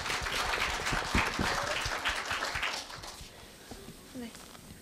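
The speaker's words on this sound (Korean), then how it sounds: "박수로 맞아주세요." A school speech-contest audience applauds to welcome a middle-school student speaker, with a dense wash of clapping that is loud at first, then thins and fades over several seconds.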